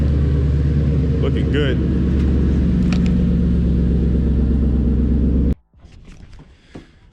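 A 2014 Ford Mustang GT idles indoors with a loud, steady, low exhaust drone that cuts off abruptly near the end, leaving quieter room noise; someone speaks briefly over the engine.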